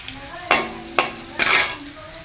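Browning onion frying in a pan with bay leaves, stirred with a utensil in three quick scraping strokes that clatter against the metal over a soft steady sizzle.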